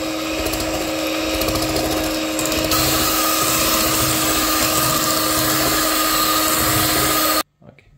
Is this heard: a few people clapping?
no